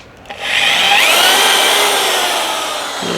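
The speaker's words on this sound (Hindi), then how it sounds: "ये ड्रिल मारा है" A power drill grinds into a Lexus 570 / Toyota Land Cruiser throttle body during a repair, making one loud, steady, close-up whine that holds for about three seconds.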